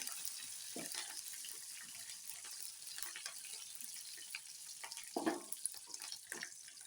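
Fresh curry leaves frying in oil for a cucumber dal: a soft, continuous crackling sizzle with scattered pops and stirring clatter, one brief louder burst near the end, fairly quiet and without speech.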